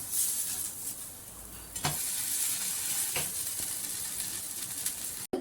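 Carrot dosa sizzles steadily in oil on a hot pan, a continuous frying hiss with a scrape and soft knocks as it is flipped partway through, then a brief cutoff at the end.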